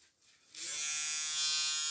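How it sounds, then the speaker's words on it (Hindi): A vintage T9 electric trimmer switches on after a quiet moment and runs with a steady, close, high-pitched buzz. "ये ट्रिमर एक और आ गया जी मेरे पास, विंटेज T9 ट्रिमर है"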